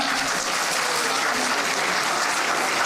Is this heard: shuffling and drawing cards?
no